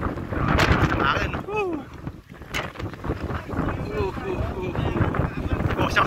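Strong wind buffets the microphone outdoors at a downhill and cross-country bike race in Jubail, a steady rumbling roar throughout, with people talking over it.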